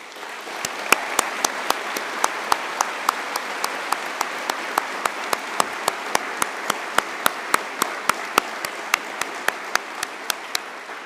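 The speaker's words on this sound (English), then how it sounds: "a warm round of applause" An audience at a University of Galway winter conferring ceremony gives the graduates a warm round of applause, a loud, sustained wash of clapping with sharp individual claps punctuating it steadily throughout.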